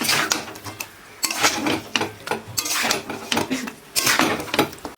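A spoon scrapes and clatters against a pot while chicken curry with turmeric and salt is stirred, with repeated close metallic knocks and scraping bursts in an irregular rhythm and no talking.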